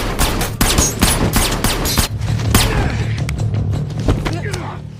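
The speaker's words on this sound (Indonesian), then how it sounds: "Marcus yang tadinya ingin menembak John, ia malah sengaja melesetkan tembakan" Rapid bursts of film gunfire crack repeatedly, loud and close, with sharp shots in quick succession over a low rumbling background.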